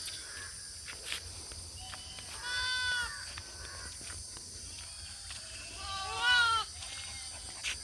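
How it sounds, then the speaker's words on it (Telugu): Goats and sheep bleat on a farm, with two wavering calls at moderate distance set against quiet outdoor ambience, scattered light thumps and footsteps. "గొర్రెలు చూపించండి. అక్కడ ఉన్నాయి చూడండి."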